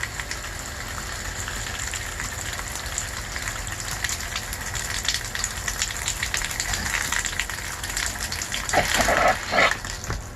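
A jug of liquid drains into the plumbing of a Keystone Passport 2810BH travel trailer during winterizing, a continuous gushing, gurgling flow that grows louder and more uneven toward the end, heard close with no talk.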